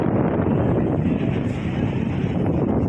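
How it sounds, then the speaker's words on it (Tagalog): Strong wind roars over the microphone aboard a boat at sea, a heavy low buffeting rumble that holds steady and loud without pause. "ang lakas po ng hangin"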